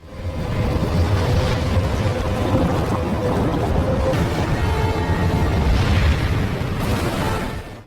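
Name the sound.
tsunami hitting the station in the film 2012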